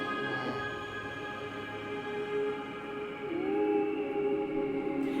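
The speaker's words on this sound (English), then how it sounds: "They are literally the sounds of space ringing." Gravitational waves from merging black holes rendered as sound: eerie, howl-like electronic tones hang and slowly bend in pitch, with a low tone swooping upward partway through; steady and moderately quiet, no talking.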